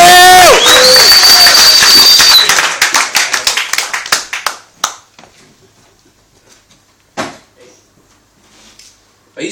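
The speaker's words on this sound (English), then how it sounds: "start clapping. Go on!" Comedy club audience clapping for a stand-up comedian, a dense loud burst of claps that thins out after about four seconds into scattered fading claps and a few isolated late ones.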